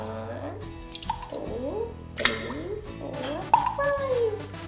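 Purple food coloring dripping into a cup of water, several small liquid drips and plinks spread across a few seconds, close and fairly quiet, with voices talking around them.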